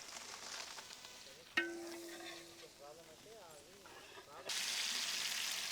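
Sliced onions, ginger-garlic paste and dry red chillies fry in oil for a mutton nalli curry, a faint steady sizzle that briefly quiets after a sharp clank, then returns louder and hissier.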